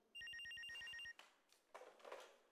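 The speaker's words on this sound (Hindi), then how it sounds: "लेकिन बज तो फोन रहा था" A telephone rings indoors with a rapid electronic trill, one loud burst of about a second, followed by quieter room sounds and faint shuffling.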